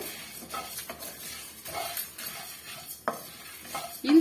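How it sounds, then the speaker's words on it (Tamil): Chettinad chicken stir-fried on a medium flame in a pan, with intermittent scraping and clinking of a spatula against metal over a faint sizzle, including one sharper knock near the end. "மீடியமான ஃப்ளேமில் வச்சு நல்லா வந்து வறுத்து விட்டுக்கலாம்"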